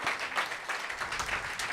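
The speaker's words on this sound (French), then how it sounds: "On l'applaudit très fort." Brief burst of audience applause for a prize nominee at a digital awards ceremony, dense clapping throughout the short stretch.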